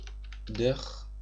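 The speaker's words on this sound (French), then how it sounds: "on va taper, ce sera plus simple, Débridder sur Google" Computer keyboard keys are tapped in a few quick light clicks, typing a search into Google, with a voice speaking over the last part.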